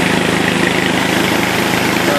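A Turgo hydro generator with a three-phase permanent magnet alternator running under load at about 1700 RPM, a steady, loud, even mechanical hum and whir with a faint rhythmic pulse, constant for the whole stretch.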